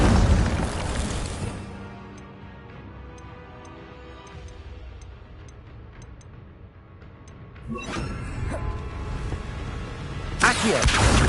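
Booming fire-spell blasts from the Incendio charm in the Hogwarts Legacy video game: a loud burst at the start, then quieter magical ambience, and further heavy bursts near the end.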